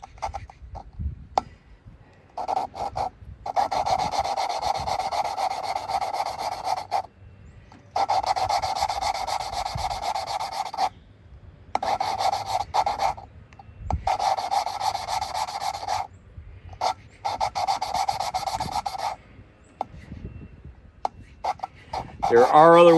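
Repeated rasping, grinding strokes of valve lapping on an overhead cam cylinder head, in bursts with short pauses between them, a steady abrasive rubbing sound up close, getting slightly smoother and finer later.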